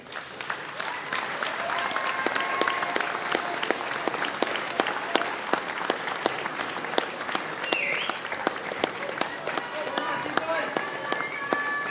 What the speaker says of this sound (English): Graduates, please stand and offer your applause to the people here who have supported you